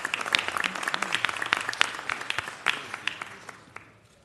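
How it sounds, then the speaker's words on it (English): An audience at a city council meeting claps for a school, a moderate round of distinct claps that gradually thins and fades out. "let's give them one more round of applause"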